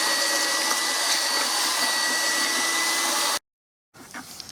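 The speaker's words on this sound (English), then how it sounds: "I'm going to put it in this bucket and mix it up kind of thing. Just this is how I mix up my mortar." Mortar mixed in a bucket for a spa handrail installation gives a steady, loud whirring churn that cuts off abruptly, followed by a brief silence and faint scraping.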